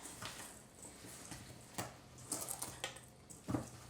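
Burger-alternative ingredients and egg being mixed in a bowl, with soft, irregular squishing and light clinking taps, close and quiet.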